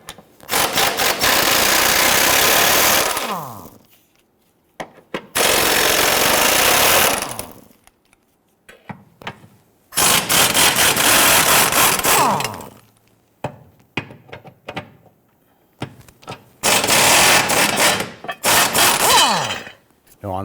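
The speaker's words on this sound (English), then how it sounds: "Use our 16mm socket, remove these 4 bolts holding this side of this bracket." Impact tool spinning a 16mm socket on the transmission mount bracket bolts of a 2011-2021 Jeep Grand Cherokee, four loud, close bursts of rattling whir separated by quiet gaps, with no talk.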